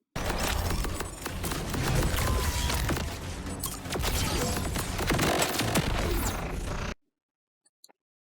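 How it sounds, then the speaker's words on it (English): Stellium shotgun firing in Borderlands 4 amid dense, continuous game combat, with loud overlapping blasts, impacts and effects that cut off abruptly into near silence with a couple of faint clicks. "The Stellium is a slow firing shotgun, but it does a lot of dot damage"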